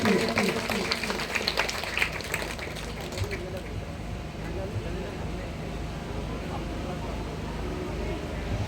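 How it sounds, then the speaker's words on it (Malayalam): An audience at a temple gathering claps for an honored guest, a dense burst of applause loudest at the start that thins into a steady rumble of crowd noise. "എല്ലാവരും കൈയടിച്ച് പ്രോത്സാഹിപ്പിക്കുക"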